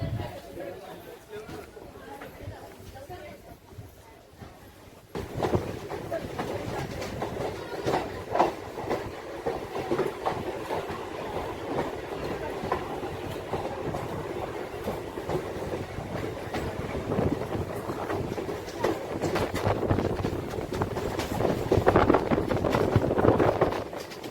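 A train leaving Chiplun for Mumbai rumbles and clatters steadily along the rails, heard from inside the carriage by a window seat, with people chattering in the background.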